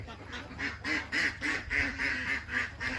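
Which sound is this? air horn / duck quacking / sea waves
duck quacking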